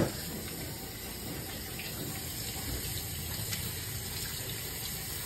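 Tap water runs in a steady, continuous stream while crabs are washed clean of mud at a kitchen sink, a close, hissing gush with no pauses.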